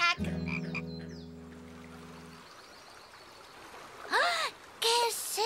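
A cartoon frog gives two short, bouncy croaks near the end, loud and close, after a sustained musical tone fades into a soft background trickle of water.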